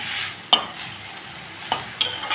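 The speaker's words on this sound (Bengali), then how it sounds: "এখন আমি মাছটাকে সুন্দর লাল লাল করে ভেজে নেব।" Fish coated in turmeric and salt frying in oil, a steady close sizzle with three sharp clicks or scrapes from a utensil against the pan.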